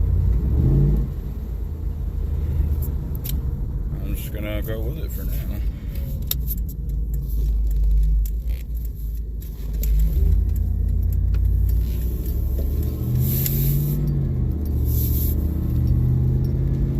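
A car engine idles and runs steadily after an Optispark distributor replacement, with a low continuous rumble and a brief rev, as someone talks over it.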